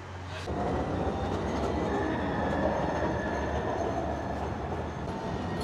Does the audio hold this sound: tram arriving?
yes